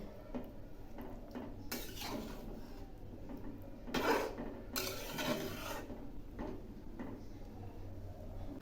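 Mixed lentils (panchmishali dal) being stirred in a pan: intermittent scraping and rasping strokes of a spoon against the pan, quiet overall with a couple of louder scrapes, no talking.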